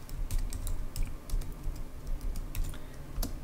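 Keys on a Mac computer keyboard are typed in quick irregular taps, near and fairly soft, continuing through the whole stretch with no voices.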